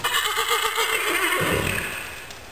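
A horse whinnies in a single drawn-out neigh during an equine osteopath's visit, loud and close, with rustling in the background and no talking.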